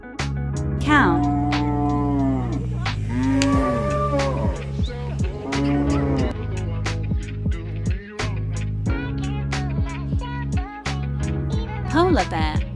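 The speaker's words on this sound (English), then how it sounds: "cow" A cow moos several times, with drawn-out lowing calls spread through the clip over continuous background music.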